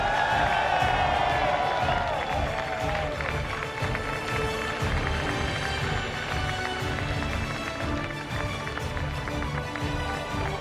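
Esports arena crowd at IEM San Jose 2015 cheering a Counter-Strike: Global Offensive championship win, a dense roar of whoops and applause filling the hall continuously, loudest at the start.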